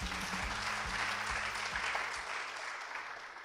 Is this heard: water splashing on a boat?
no